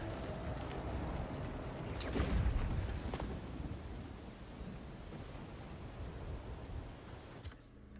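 Steady heavy rain in Marvel's Spider-Man 2 hisses throughout, while a deep roll of thunder swells near the middle and fades, with no speech.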